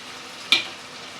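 Food frying in a pan gets stirred: one short, sharp spoon scrape cuts through a faint background sizzle.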